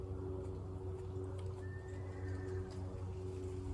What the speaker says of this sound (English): Maybe a horse I heard down the road.